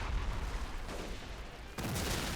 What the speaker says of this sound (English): Ooh, that mortar got him.